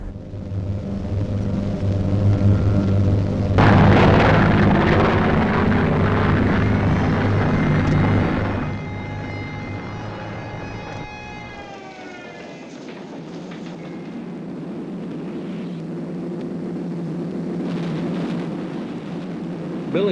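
Aircraft and explosions during the wartime bombing of Dresden make a heavy, loud rumble that swells and roars for several seconds, then eases into a lower, distant drone with scattered thuds.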